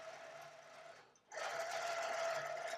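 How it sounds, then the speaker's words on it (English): A Pro Stitcher computerized quilting machine stitches a row with a rapid, even mechanical whir that pauses briefly, then resumes louder and steady. "And now it's going to finish quilting this section to finish the row after running out of a bobbin."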